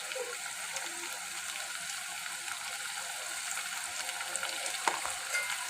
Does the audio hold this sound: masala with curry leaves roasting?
yes